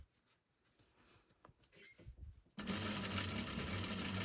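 A sewing machine backstitches a welt pocket: faint handling clicks and fabric shuffling first, then the motor starts up and runs steadily at a loud even whir.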